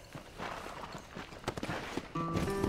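Soft hoofbeats of a horse in Red Dead Redemption, a quiet clip-clop that quickens into a run, followed by a brief tonal game sound at the end.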